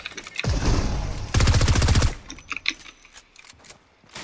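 Rapid bursts of automatic gunfire from the Fortnite video game, a dense rattling volley followed by a second fast burst, then scattered lighter shots and clicks fading out.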